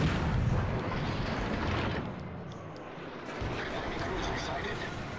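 Naval shells strike a warship in World of Warships: Legends, a dense booming rumble that swells at the start, eases, then returns under an excited voice talking throughout.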